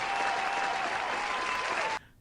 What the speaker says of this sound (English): let me give you another round of applause